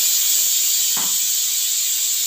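Hot cumin tempering poured over dal gives a loud, steady sizzling hiss that holds without a break, with one brief soft clink partway through and no talking.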